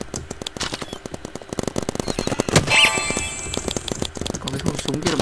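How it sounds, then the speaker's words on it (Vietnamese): Rapid gunfire from a gun in a Roblox paintball game, dense repeated shots with bursts and a brief loud blast partway through, under occasional talk. "Có cái khẩu súng kia nó bắn mình ấy."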